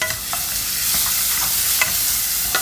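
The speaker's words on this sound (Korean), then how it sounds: "넣고 볶아줍니다." Minced onion and garlic stir-fry in a hot pot while preparing tomato seafood spaghetti, a loud, steady sizzle broken by repeated scraping clicks of stirring, no talking.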